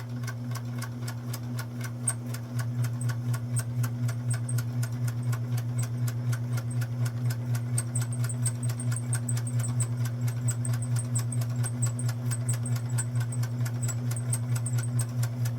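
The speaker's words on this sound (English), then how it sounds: "I've got the machine threaded up, so we're going to go ahead and run this little tie through the machine" Sewing machine stitching a small apron tie, a steady rapid rhythmic ticking over a constant low motor hum, running continuously and close by.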